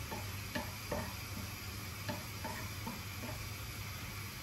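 Onion frying in a pan for crispy sweet corn, a quiet, even sizzle under a steady hiss, with light rhythmic taps of a stirring spoon.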